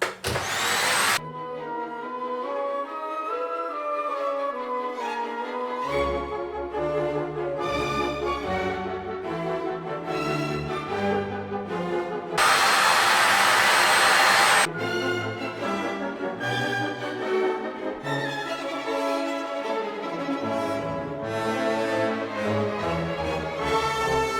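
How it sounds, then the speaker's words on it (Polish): A vacuum cleaner runs at maximum power to clean dust off bathroom walls after renovation, producing a loud, continuous tonal whine with shifting pitch and a harsher rushing burst midway as the nozzle meets the surface. "Włączam maksymalną moc i odkurzam."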